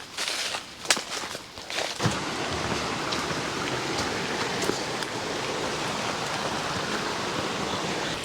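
Waterfall on Booloumba Creek in Conondale National Park rushes in a steady broadband roar; a few footsteps crunch at the start before the water noise carries on alone.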